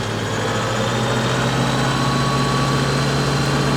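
A tractor-driven flail mower starts up and runs at 540 PTO speed, a steady low drone with a constant hum, close and loud, with no voices.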